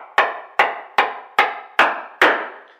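A chisel tapped through wood along knife lines to cut an inlay recess for fine furniture work, six evenly spaced sharp close mallet knocks with short ringing decays, heard alone.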